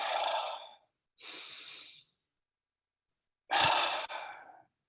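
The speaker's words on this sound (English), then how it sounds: "you can be as loud as you want here with your breathing" Deep, audible breathing during a guided relaxation session: slow breaths in and out, then a pause and a further breath ending in a long sighing exhale. The breaths are close and clear, with no talking.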